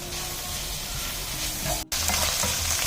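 Taucu fermented soybean paste is stirred into ingredients frying in a claypot for tofu. A loud, continuous sizzle runs under repeated scraping utensil strokes, broken by one very brief cut.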